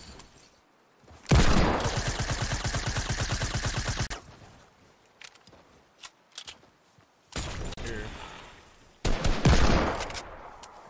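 Rapid automatic gunfire in a video game shooter arena match: two long sustained bursts of fast repeating shots with short sharp volleys between them, loud and close.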